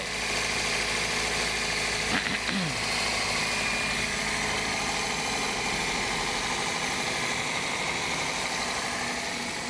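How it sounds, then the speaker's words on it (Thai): A Toyota Vios engine idles smoothly and steadily after a drive belt replacement, with a constant low hum, and a brief squeak sounds early on. "เครื่องยนต์ หมุนเงียบเดินเรียบปกตินะครับ"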